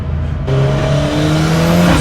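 A Ford Sierra Cosworth with a touring-car-spec engine revs hard, loud and close, rising into a sustained high-revving roar after a brief lower idle. No one talks over it.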